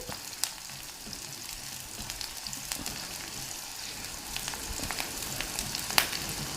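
Onion frying to golden brown in oil over a low flame for an aloo sabzi, a steady close crackling sizzle with scattered pops and light stirring, no one talking.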